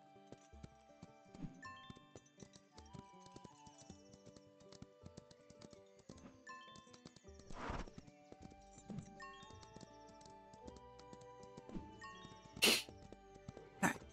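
Horse hooves clip-clop softly in the Ranch of Rivershine video game, a faint irregular patter of steps beneath a steady layer of tonal game music, with a couple of sharper knocks near the end.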